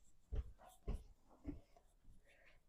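A small dog named Bubbles acts up with a few short whimpering bursts, close and fairly loud, spaced about half a second apart, then quieter fidgety sounds.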